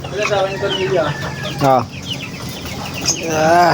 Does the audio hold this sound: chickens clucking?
yes